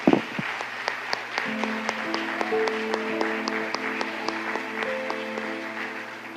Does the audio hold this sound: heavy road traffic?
no